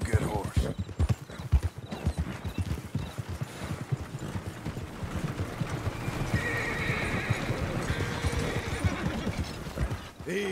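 Horse hooves clip-clop at a steady trot in Red Dead Redemption 2, with a whinny and neighing over the rhythmic steps, close and fairly loud, along with faint mechanical clicking.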